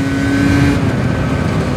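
A small moped engine, shifted without using the clutch, revs hard and climbs through a gear change, buzzing loudly and close without any voices.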